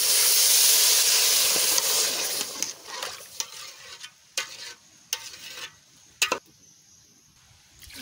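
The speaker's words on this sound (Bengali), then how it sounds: "এইবারটা আমি জল দিয়ে দিচ্ছি।" Water hits rice frying in a pan for egg biryani, setting off a loud, sharp hiss of steam that gradually fades. Several short scraping stirs follow, close by, with no talking.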